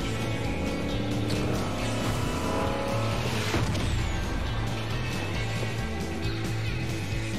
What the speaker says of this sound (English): A new car?